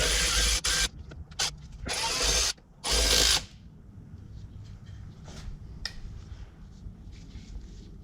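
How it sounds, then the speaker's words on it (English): A T25 driver, likely powered, removes screws holding a transmission filter on a Caravan or Town & Country: several short bursts of high whirring, then quieter clicks and handling noises. "I'm going to take a T25 and remove that screw and that screw to get the filter out."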